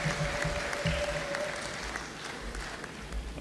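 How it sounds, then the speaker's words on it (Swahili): A crowd at a Tanzanian public gathering in Dar es Salaam claps steadily for the elders' council chairman, a dense continuous patter of applause at moderate distance with no voices standing out. "Tuongeze tena makofi kwa mwenyekiti wa baraza la wazee."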